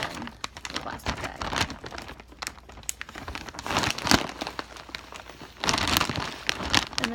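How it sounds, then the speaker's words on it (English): A plastic bag being handled while packing a hospital go bag, close crinkling bursts and rustles arriving irregularly with louder flurries here and there. "I will also put this in the plastic bag."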